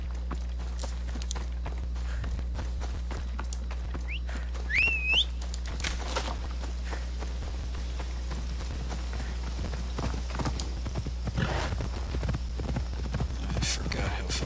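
Horse hooves clip-clopping in Assassin's Creed Odyssey as the horse is called out in the wilderness, a steady soft trot under constant game ambience with a brief whistle and faint bird calls.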